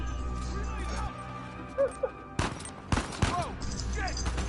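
Gunfire in Uncharted 4 lands as a few sharp, loud broadband shots spaced about half a second apart, mixed with game sounds and someone talking.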